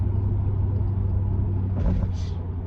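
Steady low engine rumble from inside a moving Chevrolet Tahoe SUV, constant and droning, with a brief brighter whoosh of passing traffic near the end.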